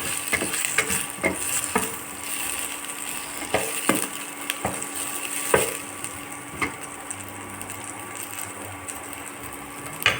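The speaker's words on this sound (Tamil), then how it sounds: "இப்போ சூடாக வச்சு கொஞ்சம் வதக்கிட்டு அப்புறம் ஈஸியாக வெந்துடும்" Okra sizzles and hisses in a hot pan while a spoon scrapes and stirs in irregular clatters, close up, with no talking.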